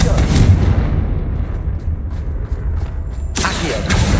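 Confringo, the fiery blasting spell in Hogwarts Legacy, is cast with a loud booming burst and a rumbling tail, followed by another sharp crackling blast near the end.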